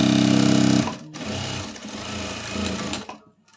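A sewing machine stitches a straight line on a princess-cut blouse with a low neck, starting in a loud, fast rhythmic whir and then running on more unevenly before stopping.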